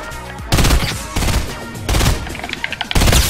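Burst assault rifle fire in Fortnite, heard as several loud, sharp bursts of rapid shots with short gaps between them, close and dominant over game background sound.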